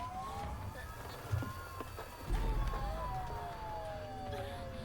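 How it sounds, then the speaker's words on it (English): Faint, rising and falling siren wails from ambulances in the horror video game Silent Hill f sit beneath a low rumbling game ambience, growing slightly over a few seconds. "Those are ambulance sirens, aren't they?"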